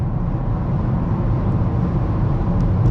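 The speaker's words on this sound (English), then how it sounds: "There's a lot of wind noise going on." Steady roaring wind noise inside a moving 2008 Honda Civic LX, a constant low rumble with no breaks or voices.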